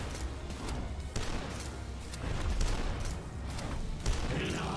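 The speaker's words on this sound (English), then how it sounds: "so then you pull out your super shotgun" Rapid, punchy shotgun blasts from the super shotgun in the shooter game Dusk, loud repeated bursts over a dense, noisy mix of in-game combat sound, with no voices.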